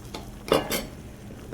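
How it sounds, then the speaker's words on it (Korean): Beaten eggs dropped into hot oil and stirred into a scramble, a couple of close pan scrapes and clatters over a faint sizzle. "스크램블을 넣어서요, 자, 한번 이렇게 뒤적거려 주기만 할 거예요."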